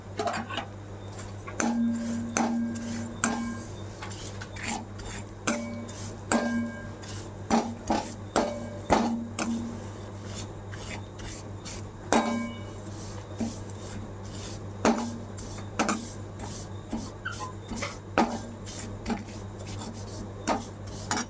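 Vermicelli (sevai) being roasted in ghee in a pan, stirred with a utensil that scrapes and clinks against the metal in irregular bursts over a steady low hum, with no voice.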